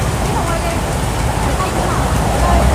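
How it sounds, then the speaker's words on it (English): Rain water dripping from above onto a street in Sham Shui Po, Hong Kong, a steady close patter over broad city noise with voices talking nearby. "You see the water dripping?"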